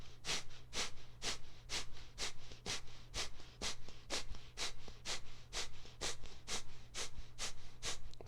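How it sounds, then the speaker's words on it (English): Rapid belly-pumping breathwork through the nose during a yoga session, about fifteen sharp, evenly spaced nasal puffs in a steady quick rhythm, close and clear over a low background hum. "begin to pump the belly while breathing in and out through the nose."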